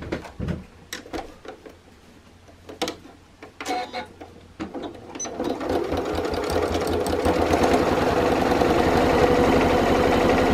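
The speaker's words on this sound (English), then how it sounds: "So we're just going to stitch across there with a 1/4 inch 6mm seam allowance." A sewing machine stitches across a coin purse seam, starting with a few scattered clicks and brief bursts, then settling into a steady, rapid mechanical whir that grows louder and runs continuously to the end.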